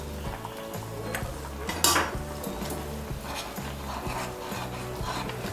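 Salt being stirred into a Bengali fish curry with potato and eggplant, soft scraping of a utensil against the pot over a low simmer, with one sharper clink midway.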